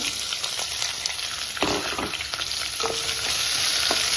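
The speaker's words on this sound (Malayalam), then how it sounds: "ഇത്രയിട്ട് നല്ലവണ്ണം ഒന്ന് വഴറ്റാം" Chopped ginger and a large chopped onion sauté in a pan for masala dosa, a steady close sizzle with occasional stirring scrapes and clicks of the spoon, no talk.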